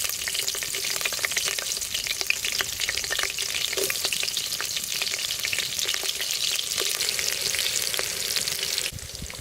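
Green chillies drop into hot oil already crackling with cumin seeds for a goat head curry, giving a steady, close, dense sizzle with fine popping throughout and no voices.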